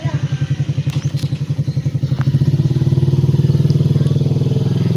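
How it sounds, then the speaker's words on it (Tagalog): A hard-starting motorcycle engine chugs unevenly and then catches into a steadier, faster idle, loud and close. "Namamali na naman ang ating motor. Ang hirap niya paandarin guys."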